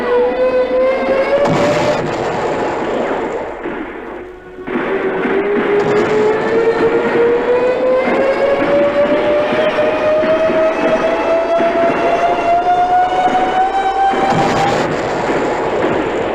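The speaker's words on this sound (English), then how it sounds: "You think those bombs were noisy enough without the Jerry's putting screamers on them, too?" Falling bombs fitted with screamers in a wartime radio drama give a long rising whistle that climbs steadily over several seconds, breaks off briefly, then resumes and climbs again beside a loud, dense rumble.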